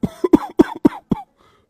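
An old man coughing from his cot, a close burst of five or six short, raspy coughs in quick succession trailing off into silence.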